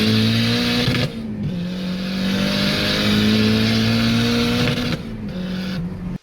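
A modified Mazda MX5 engine revs hard and close, its steady harmonic drone dipping briefly twice as the throttle eases, then cutting off abruptly at the end.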